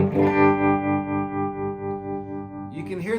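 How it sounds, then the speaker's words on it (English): An electric guitar rings a sustained, distorted chord with a tremolo effect that pulses its volume in a steady wobble, up close, before a voice cuts in at the end. "But what I'm saying is about the tremolo."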